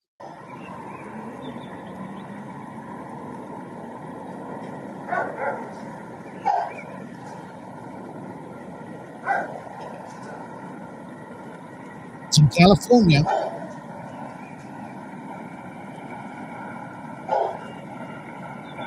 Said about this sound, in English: Dogs are going nuts.